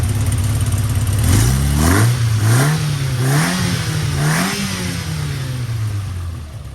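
A car engine with Dellorto DHLA carburettors revs up and down several times in rising and falling swells, loud and close, without any voices.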